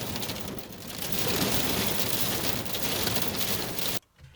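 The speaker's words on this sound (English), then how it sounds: "just a little hail." Hail rattles hard and dense on the metal body of a van, a loud continuous drumming that cuts off abruptly near the end.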